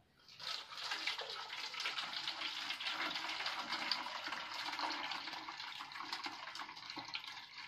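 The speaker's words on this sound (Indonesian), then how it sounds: "kita saring sekarang" Boiled herbal medicine liquid is poured through a strainer, giving a steady, close, continuous splashing trickle of water that runs for the whole stretch without talk.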